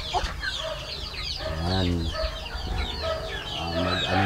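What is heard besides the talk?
Rhode Island Red chickens, hens and rooster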